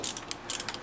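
Hand ratchet working loose the header nuts on a BMW E36, heard as a few quick, short clicking bursts close by, with no talk.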